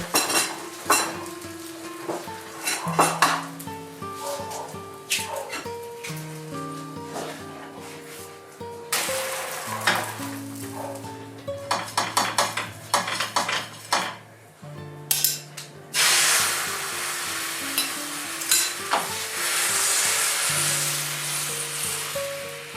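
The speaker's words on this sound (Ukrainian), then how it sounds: "Вони смажаться ці млинці дуже швиденько" Crepe batter sizzles and fries in a hot pan, with occasional scrapes and clinks of a utensil, while gentle music plays in the background.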